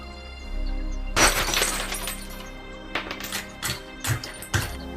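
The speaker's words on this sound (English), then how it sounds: "To open the cupboard, simply break the glass." Glass panel of an emergency equipment cupboard on a train smashed: one loud sharp shatter up close, followed by several smaller tinkling glass hits and fragments falling.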